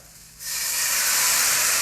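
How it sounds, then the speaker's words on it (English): Water splashed into a hot pan on a barbecue setup with toasted rolls bursts into a loud, steady steam hiss that starts abruptly after a quiet moment and holds strong to the end. "I cranked up the heat, and what that does is gives a little fast steam."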